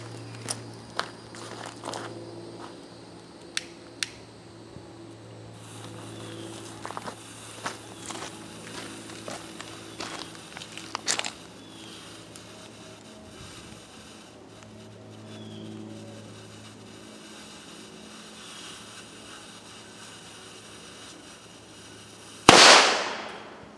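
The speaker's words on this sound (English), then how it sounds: "So now I made a firecracker and stuck a fuse in it, and we'll try it out" A homemade black powder firecracker lit by a homemade fuse, with a few faint crackles and thuds over a low outdoor hum, then one sharp, loud blast near the end that rings off quickly.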